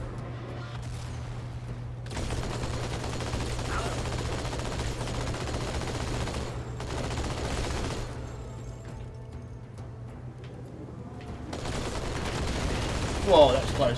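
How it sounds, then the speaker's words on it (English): Sustained gunfire from a sniper and a chain gun in Halo 2: Anniversary, rapid bursts of shots roaring in long stretches separated by brief lulls, with a steady low hum underneath. "He's got a sniper and a chain gun!"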